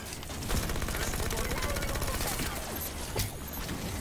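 Rapid automatic gunfire from a Halo 5 firefight, a dense steady burst of shots running nearly the whole time, loud and close, with game effects layered over it and no clear talk.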